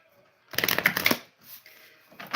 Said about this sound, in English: But first, I want to shuffle the cards.